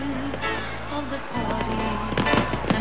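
New Year fireworks burst over Sydney Harbour, with several sharp cracks and pops over a steady crowd and broadcast background, and a voice talking over part of it.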